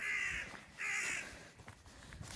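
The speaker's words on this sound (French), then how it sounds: "Un corbeau." A crow in Scotland caws twice in quick succession, loud and fairly close, followed by quieter rustling and faint background noise.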